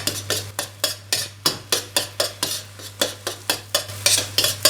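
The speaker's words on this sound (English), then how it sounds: "Quickly scramble the egg." Egg scrambled in a frying pan for egg fried rice, a utensil scraping and stirring in quick regular strokes about three per second, close and clear over a low steady hum.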